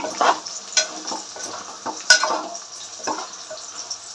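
Chicken pieces with onion paste sizzling in a pan as a spoon stirs them for chicken gravy curry, a steady frying hiss broken by irregular scraping and clinking strokes against the pan.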